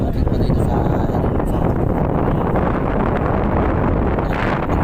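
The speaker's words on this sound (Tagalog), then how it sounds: "Napakalakas ng hangin." Very strong wind at a beach roars continuously and loudly, buffeting the microphone, with a person talking over it.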